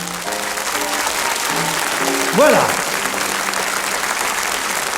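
A TV studio audience at a 1988 French children's singing show applauds the young performers, steady broadband clapping throughout with a host speaking briefly over it.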